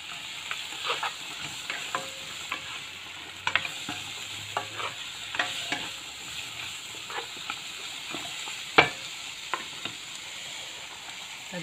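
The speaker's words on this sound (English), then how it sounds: "Stir fry for a little bit now." Sukiyaki ingredients with carrots being stir fried in a pan: a steady sizzle and hiss with scattered scraping and clinking of the utensil against the pan, close and fairly quiet, with no talking.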